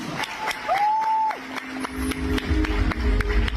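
Clapping from the audience at a governor's inauguration ceremony sounds as brisk, rhythmic claps over a hum, building into fuller applause near the end, with a whistle-like tone rising briefly early on.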